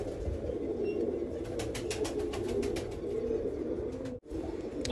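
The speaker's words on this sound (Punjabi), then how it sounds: "ਆਹ ਆਪਣੀ ਵੱਡੀ ਕਬੂਤਰੀ ਮੇਰਾ ਭਰਾ ਚੈੱਕ ਕਰੋ" Pigeons coo softly and continuously in a low murmur, with faint chirps and brief rustling sounds mixed in; no talking.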